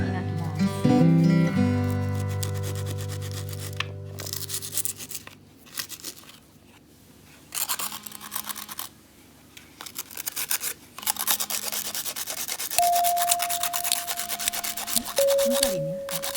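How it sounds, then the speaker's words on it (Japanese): Sandpaper rubbed against a part of a Dainichi blue kerosene heater under repair, heard as repeated scratchy rasping strokes in bursts with brief pauses, following a music passage at the start. "サンドペーパーで磨きます。"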